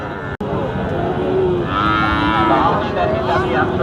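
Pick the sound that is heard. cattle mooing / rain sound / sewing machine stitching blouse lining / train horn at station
cattle mooing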